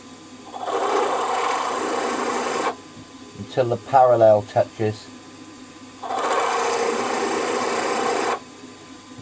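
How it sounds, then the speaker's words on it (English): A drill press grinds through a metal model engine cylinder in two steady bursts of several seconds each, with a person speaking briefly in the pause between them. "So, I'm just going to bring this drill down"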